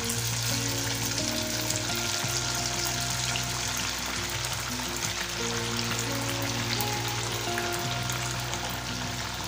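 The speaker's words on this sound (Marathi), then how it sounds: "आता आपण यामध्ये वडे तळून घेऊया." Sabudana vadas fry in hot oil in a wok, giving a steady, loud, close sizzle with dense bubbling crackle that holds evenly throughout.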